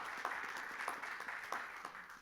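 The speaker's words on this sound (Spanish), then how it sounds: "Dele fuerte ese aplauso al Señor" A congregation applauds in an evangelical church service, a soft, fairly distant patter of many hands with a few louder claps standing out.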